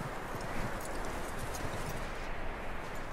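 Horse hooves clip-clopping in Red Dead Redemption 2, a steady faint patter of hoofbeats on the ground, low-level and continuous throughout.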